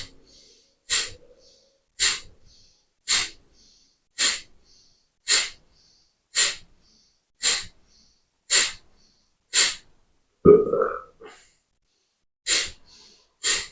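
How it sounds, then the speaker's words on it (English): Rapid, forceful breaths puff out in an even rhythm, about one per second, close and loud, with a brief deeper intake near the end. "Now breathe in through the nose, the belly, the ribs, the chest, all the way in."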